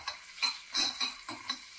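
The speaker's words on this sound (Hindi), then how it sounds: "तो इसको हल्के से हम सॉटे होने देंगे।" Paneer cubes sizzling and sautéing in a pan, with soft scraping stir sounds at a quick, uneven rhythm.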